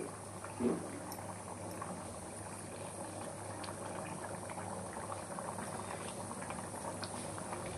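Bangaru teega fish pulusu, a tamarind fish curry seasoned with cumin and fenugreek powder, simmering in a pot with a continuous bubbling boil and a brief louder plop early on.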